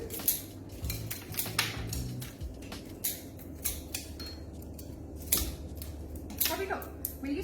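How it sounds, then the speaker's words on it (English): Scissors trimming foliage on an eco-friendly flower bouquet, a run of sharp, close snips and rustling leaves with quiet stem crunches, some faint talking behind. "I might even have to trim down the foliage here in a minute"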